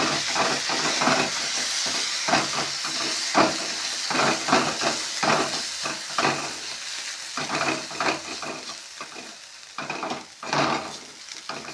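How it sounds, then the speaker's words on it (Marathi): Val bean pods, with a stone-ground masala paste, sizzle and fry in hot oil, while repeated stirring scrapes and clatters in an irregular rhythm close by. There is no talking. "आता चांगलं तेला परतून घ्या"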